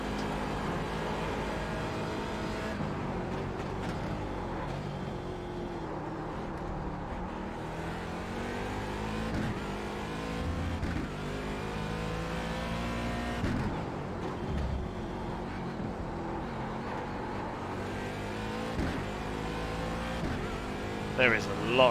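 Race car engine lapping Daytona in the iRacing simulator, steady droning roar with rising and falling pitch through shifts and corners, continuous across the whole stretch with a faint voice underneath.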